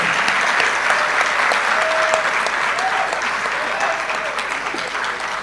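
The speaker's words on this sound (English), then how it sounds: "Oh, keep clapping for her." Steady applause from the audience at an induction ceremony for newly qualified medical and dental practitioners, welcoming a new doctor; dense, continuous clapping with faint voices and whistle-like tones mixed in.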